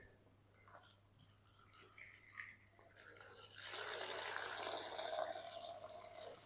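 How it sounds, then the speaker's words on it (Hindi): Water poured over cauliflower in a container for washing, a soft trickling and splashing that grows fuller and steadier partway through, fairly quiet and close. "इसके अंदर पानी डाल देते हैं।"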